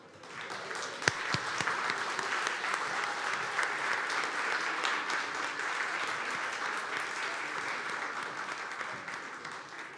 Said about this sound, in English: I would love for everybody to give you a round of applause